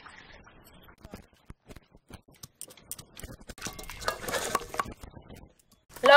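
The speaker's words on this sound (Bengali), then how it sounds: "আদা কাঁচা লঙ্কা একসাথে বেটে নেব" Ginger and green chillies ground together into a paste: scattered clicks and taps, then a denser stretch of rough rhythmic scraping, followed by a short louder burst at the end.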